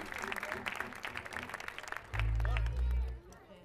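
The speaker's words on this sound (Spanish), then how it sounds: "Un aplauso para el sonidista, por favor." Audience at a live folk music show breaks into clapping and cheering for the sound engineer, a busy patter of claps and voices with a heavy low thump near the end.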